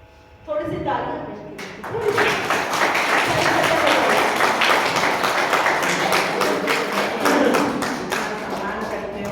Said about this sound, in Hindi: थोड़ी सी तालियां